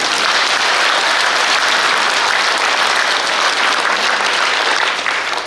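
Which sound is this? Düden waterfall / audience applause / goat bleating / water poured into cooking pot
audience applause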